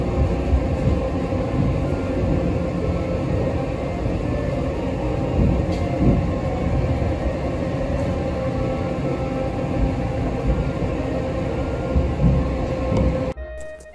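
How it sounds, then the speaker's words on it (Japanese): A 485-series train rumbles steadily from the inside, a low rolling drone with faint clatter, easing near the end as it slows arriving at Haijima Station. "まもなく列車は拝島駅に到着です。"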